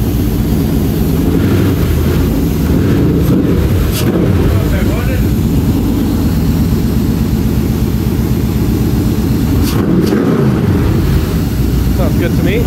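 A Chevrolet LS1 V8 engine running on a test stand with an external fuel pump, a loud, steady, close droning rumble lasting throughout, buffeted by wind noise.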